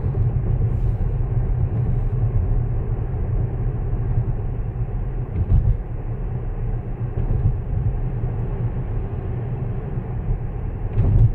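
Steady road noise inside a Tesla driving itself: a continuous low rumble of tires and cabin drone, even and fairly loud throughout, with no talking.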